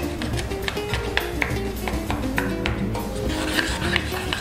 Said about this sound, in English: Just grind it all up.